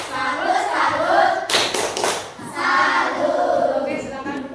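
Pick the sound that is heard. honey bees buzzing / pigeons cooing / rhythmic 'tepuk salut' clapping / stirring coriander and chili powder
rhythmic 'tepuk salut' clapping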